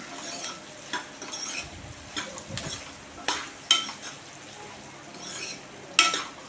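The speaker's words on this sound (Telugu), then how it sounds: "కాకరకాయ ముక్కలు కూడా వేసుకొని కలుపుకోవాలి మంచిగా మొత్తం" Bitter gourd pieces are stirred in a pan of hot oil, giving repeated scraping strokes over a faint steady sizzle, with occasional clinks of utensil against pan.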